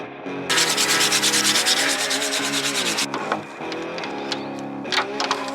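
A Dremel rotary tool rounds off the corners of a wooden part with a loud, buzzing grind. The grinding is steady for a few seconds, then breaks into shorter bursts as the tool touches the wood, with no voices over it.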